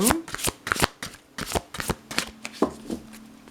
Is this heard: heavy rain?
no